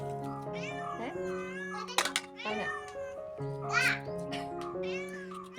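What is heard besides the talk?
cat meowing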